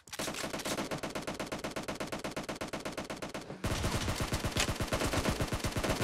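Sustained rapid automatic gunfire in a shooter video game, dense rattling bursts without pause, growing louder and heavier partway through.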